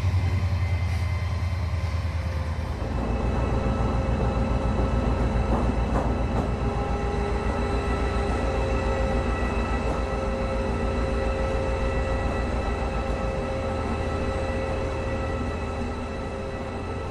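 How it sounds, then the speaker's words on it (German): An HLG EuroDual locomotive shunts a loaded freight train on works sidings at Bokeloh, with a steady, loud diesel drone and continuous rolling rumble of wagons close by. "Auf den Werksgleisen in Bokelow wird rangiert."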